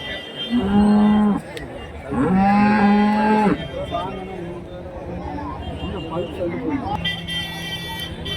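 Two long, loud moos from a cow close by at a cattle market, the second one longer, followed by quieter voices and background rumble.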